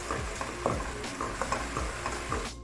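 Ground green chillies being stirred into a frying chickpea mixture, with a spoon scraping the pan at a steady rhythm over a continuous soft sizzle, close and moderately loud, no talking.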